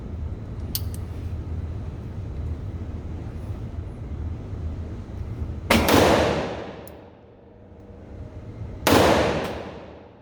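Two loud, sharp gunshots from a Bond Arms 45 Colt/410 pistol at an outdoor range, a few seconds apart, each cracking and decaying over a quiet background hum.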